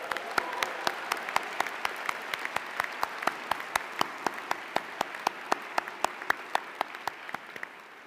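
An audience at a Yale School of Public Health diploma ceremony applauds steadily for several seconds, with a near pair of hands clapping sharply and rhythmically over the broader, softer crowd clapping.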